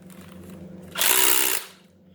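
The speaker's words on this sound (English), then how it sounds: "I use a drill, which is a drill and a hammer in one." A hammer drill whirring loudly for about half a second while driving a screw during a motion sensor installation, then spinning down, preceded by a low hum.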